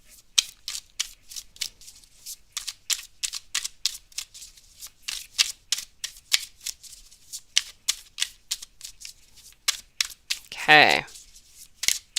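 A deck of tarot cards is shuffled by hand in quick, rhythmic riffling bursts, close and crisp, continuing for several seconds; a brief spoken word cuts in near the end.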